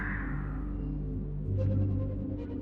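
A shrieker screams a warning signal in a video game's ancient city: low droning ambience and faint tones give way midway to a sudden shrill, wavering shriek that rings out close and loud before fading.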